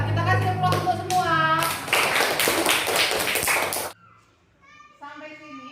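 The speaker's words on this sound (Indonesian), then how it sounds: "Kita kasih aplaus untuk semua" Children in a classroom break into applause for about four seconds, a dense burst of clapping mixed with young voices, then it cuts off and someone speaks quietly.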